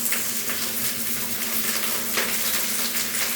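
Garlicky fried rice, Filipino sinangag, fries in a hot pan with a dense, steady sizzle and faint stirring scrapes, close and continuous with no voices.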